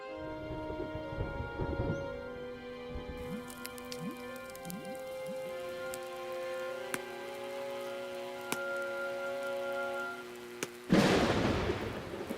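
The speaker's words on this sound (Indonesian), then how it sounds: "Oh, lihat awan-awan gelap itu. Badai akan datang." A cartoon rainstorm with steady rain patter and scattered drops over a sustained tonal music bed, with a few sharp cracks and a louder burst of rain rushing in near the end.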